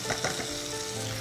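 Kencur spice paste for seblak sizzles as it sautés in hot oil, a short, continuous frying crackle with a couple of light stirring bumps at the start.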